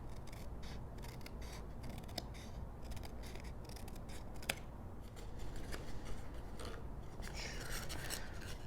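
Scissors trimming the corners of paper for a recipe storage box craft, faint quiet snips and rustles over a steady low room hum, with no clear talking.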